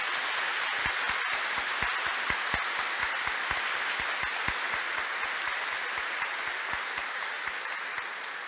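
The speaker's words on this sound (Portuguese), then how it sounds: "Vamos acolher essas crianças com um aplauso." Applause from a church congregation welcoming children after their baptism, with crisp, evenly spaced claps forming a steady rhythm that holds throughout before easing slightly toward the end.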